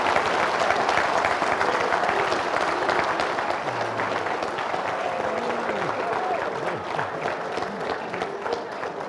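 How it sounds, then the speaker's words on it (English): A live audience applauds Hall of Famer Harry Carson with dense, steady clapping that carries on throughout, and crowd voices are mixed in beneath. "let's have a nice round of applause for Harry Carson"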